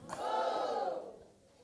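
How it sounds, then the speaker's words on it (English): An audience at an outdoor township entrepreneurs' event in Motherwell lets out a single swelling cheer right after a countdown, a loud burst that holds for about a second and then fades. "Come guys, let's give a big cheer."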